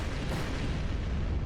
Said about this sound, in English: A series of explosions destroyed the entrance where we escaped.